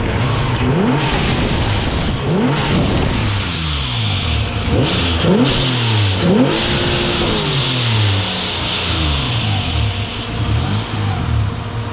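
Close modified Hyundai engine revving in a series of sharp throttle blips, pitch sweeping up and down, then settling toward a rough, steady idle.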